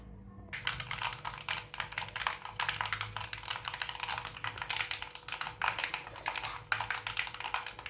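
Mustard seeds spluttering in hot oil with a dense, continuous patter of rapid pops and crackles, close and fairly loud throughout, with no talking.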